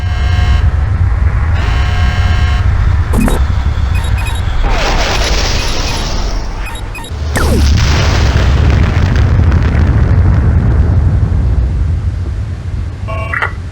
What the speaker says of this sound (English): The shuttle takes off and is destroyed by missiles moments later.